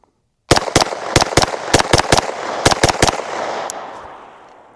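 A Stribog 9mm pistol fires a rapid string of about eleven loud, sharp gunshots in quick succession outdoors, each crack ringing out, followed by a fading echo.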